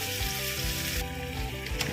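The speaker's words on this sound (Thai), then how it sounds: "ใส้กระทะ ผัดเครื่องเราโขลกไว้เลยครับ" Steady sizzling and frying of pounded spice paste in a hot pan, loud and continuous, with faint scraping of stirring throughout.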